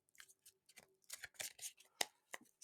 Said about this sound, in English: I was told to shuffle 3 times and then pull a card